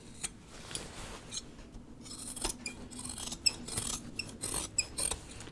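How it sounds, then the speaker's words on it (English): Scissors snip through the fabric of a sewn bag held over a trash can, giving a series of quiet, irregular crisp cuts and rustles, close and fairly faint. "So I'm just going to cut this one over the trash can."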